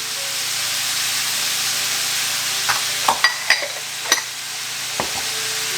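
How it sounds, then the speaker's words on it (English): Pork belly frying in a pan with shrimp added, giving a steady close sizzle with a few sharp clicks and clatters of utensils against the pan partway through. "our pork belly is already getting ready to brown, so now we're gonna add our shrimp in"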